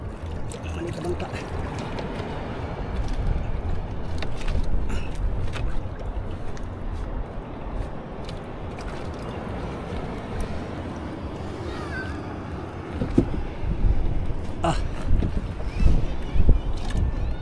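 Water splashing and pouring around a small wooden outrigger boat as it is bailed out, with continuous broadband water and wind noise, occasional louder splashes near the end, and voices talking in the background.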